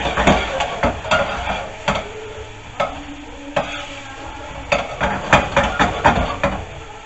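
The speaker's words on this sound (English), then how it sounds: "cook that until the garlic and ginger is just starting to brown" Garlic and ginger fry in a pan for chicken madras, a steady sizzle running beneath repeated clattering scrapes and knocks of a utensil stirring against the pan, close and fairly loud, with no talking.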